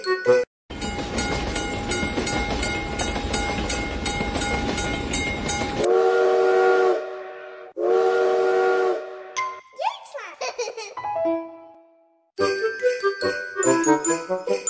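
Cartoon steam locomotive from a children's animated train game: a long chugging run with a steady tone, then two loud sustained whistle blasts, a short rising swoop and more busy train sound, with no talking.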